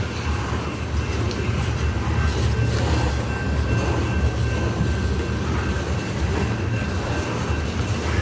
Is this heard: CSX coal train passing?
yes